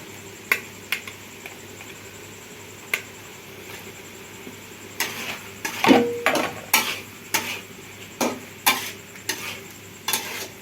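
Pre-fried shrimp being stirred into a sizzling pan for a shrimp bhuna, with steady frying hiss and a run of sharp spatula scrapes and clinks against the pan, growing busier toward the end, with no talking.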